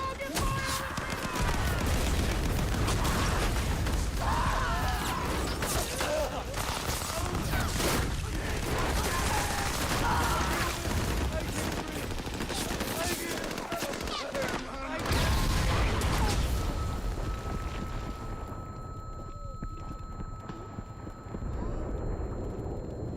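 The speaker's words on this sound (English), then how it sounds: "the explosion happened, as the mortar landed" Mortar explosions and heavy gunfire from a beach landing battle in the TV series The Pacific, with dense continuous firing and blasts, loud and close, and voices talking over the chaos.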